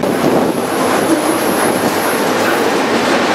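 A BNSF freight train rolls on rails in winter, heard as a dense, steady roar with rail noise, close and loud throughout.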